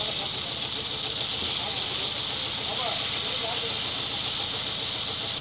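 Steady, loud hiss of fish frying in oil at a roadside food stall in Rameswaram, Tamil Nadu, continuous throughout with faint voices and street noise mixed underneath.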